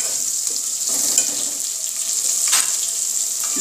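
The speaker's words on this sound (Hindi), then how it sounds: "थोड़ा सा आलू को इसे भूनूंगी। ये देखिए व्यूअर्स, आलू को थोड़ा भूना है।" Potatoes frying in a pan for a Hindi home-style potato rice dish give a steady, fairly loud hiss that runs evenly throughout, with faint scrapes partway through and no talking.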